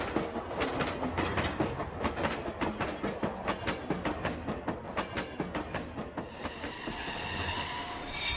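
A cartoon train runs along rails with a steady, close clickety-clack of wheels over joints and a high wheel squeal toward the end, loud and without talk.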